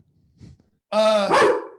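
One loud, drawn-out bark from a medium-sized mixed-breed dog sounds close by, preceded by a faint muffled noise.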